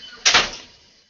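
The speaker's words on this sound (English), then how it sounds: "Oh, that door's loud." A door closing loudly indoors, one sharp near impact with a short rattling tail that fades within a second, heard alone.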